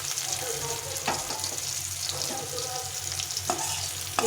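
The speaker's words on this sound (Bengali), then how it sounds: "কাঁচা লঙ্কা দিয়ে একটু ভালো করে ভেজে নিতে হবে" Green chillies and onion sizzle in hot oil in a pan for a winter chorchori with onion stalks, a steady close frying hiss broken by a few scraping stirs.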